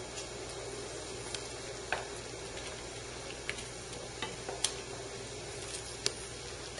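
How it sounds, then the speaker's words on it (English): Cranberries cooking in a pot of chutney give a steady bubbling sizzle, with scattered small pops and clicks breaking through at irregular intervals; fairly quiet and close, with no talking. "The cranberries are definitely starting to pop."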